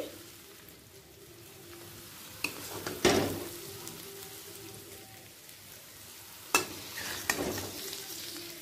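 Onions brown and sizzle steadily in oil in a large kadai on a small burner, with a few sharp scraping stirs breaking in now and then.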